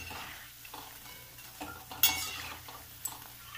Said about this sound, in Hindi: चलाते हुए हम इन्हें चारों तरफ से अच्छे से फ्राई कर लेंगे।